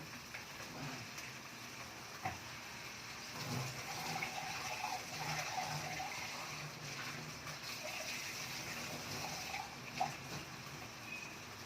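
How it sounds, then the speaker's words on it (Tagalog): Water poured into a cooking pot for pancit bato, a Bicol noodle dish, in a home kitchen, giving a steady mid-level gush and splash that runs for several seconds with small bumps and clinks. "Lagyan natin tubig guys."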